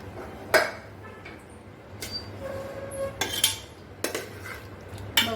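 A pressure cooker holding mutton paya soup being opened, with metallic clanks and clinks of the lid and utensils against the pot, close and intermittent, with no talking.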